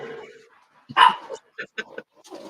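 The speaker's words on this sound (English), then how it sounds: "That sound is so loud, and she's such a tiny little stupid dog." A tiny dog gives a few sharp, loud barks in short bursts, with brief gaps of quiet between them and people speaking around the barking.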